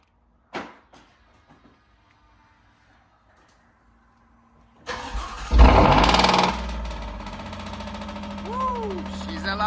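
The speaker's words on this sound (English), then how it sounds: "we're going to do the famous cold start and see how she starts out" A cold start of an Alfa Romeo Giulia Quadrifoglio: a few soft clicks in near silence, then the engine catches with a loud sudden roar and blip, settling into a strong, throbbing high idle.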